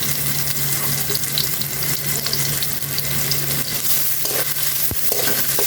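Chopped onion, garlic and ginger fry in oil for a loitta fish chop, giving a steady, close sizzle that crackles continuously with no voices.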